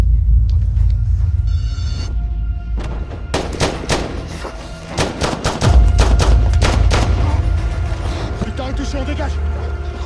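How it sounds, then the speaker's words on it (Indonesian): Bursts of rapid gunfire from a battle with the Taliban crack and rattle over a low rumble, with a narrator talking throughout and heavy thuds in between. "kewalahan untuk meladeni serangan tembakan Taliban"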